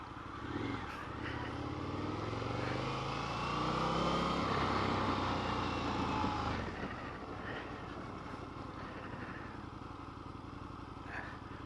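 A 2020 Indian FTR 1200 motorcycle on a ride, its engine droning loudly and rising in pitch with acceleration before settling into a steadier cruise, with wind noise throughout.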